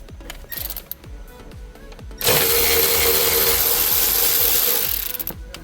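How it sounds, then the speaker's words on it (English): T20 Torx screws come out of a Mini Cooper dashboard, first with scattered clicks and scraping handling, then a sustained loud whirring of a powered driver spinning for about three seconds before stopping. "in order to get this top piece, I'm gonna start taking these T20 Torx out"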